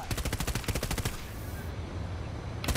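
Rapid automatic gunfire in the video game Battlefield 2042, a fast loud burst of shots up close that stops midway, then resumes briefly at the end.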